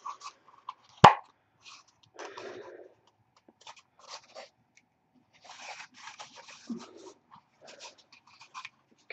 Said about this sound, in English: fold your ends in